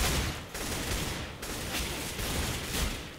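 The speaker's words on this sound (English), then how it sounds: "I shot him a couple times" Dense, continuous gunfire from the video game CS:GO rattles on for about three seconds with no pause, loud and broadband, like sustained automatic fire with no voices over it.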